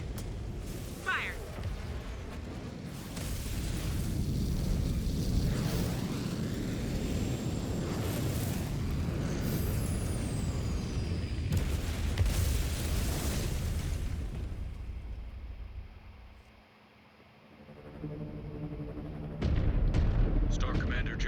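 Mech weapons fire and explosions take down Gazelle 319 in MechWarrior 5: Clans. A loud, sustained barrage of booming blasts and rumbling roar drops to near silence, then brief bursts return, with voices under it.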